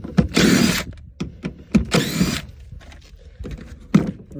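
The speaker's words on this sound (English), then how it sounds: "So I'm going to unbolt the motor." Impact or power tool bursts unbolting the window motor inside a Mazda 6 four-door sedan's door, two long whirring runs followed by short bursts and clanks, close and fairly loud, with no talking.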